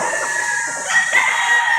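A stag rooster with a straight comb and gold plumage crows nearby, a drawn-out call rising and falling over about two seconds, steady and fairly loud with no talk over it.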